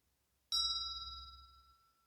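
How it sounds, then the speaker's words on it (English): A Tibetan singing bell, owned for almost 20 years, is struck once. It gives a clear, close ring with a bright shimmer that slowly fades over a couple of seconds in a quiet room. "It's a Tibetan singing bell that I've had for, gosh, almost 20 years at this point"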